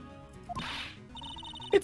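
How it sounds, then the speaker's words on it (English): A metal detector beeping in the video game Phoenix Wright: Ace Attorney, a brief burst of noise followed by a repeated electronic tone, fairly clear and up close. "It's beeping! The metal detector's found something!"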